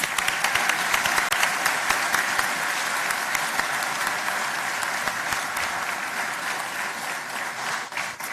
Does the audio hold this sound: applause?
yes